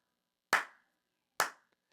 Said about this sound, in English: So if I clap my hands,